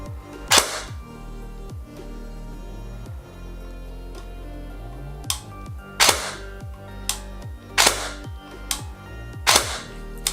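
A disassembled G&G GEC36 airsoft AEG fires single shots in semi-auto, giving sharp, loud, close mechanical cracks. A couple come early, then a cluster of about five spaced shots follows, with brief motor whirs between them and no talking.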